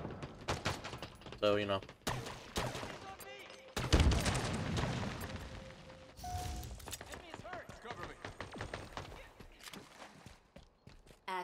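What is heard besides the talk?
gunfire in the video game Halo Infinite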